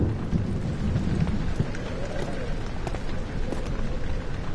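Steady, dense rain fills the Rainy Hall level of the video game Amnesia, a loud, continuous hiss with soft low rumbling beneath and no talking.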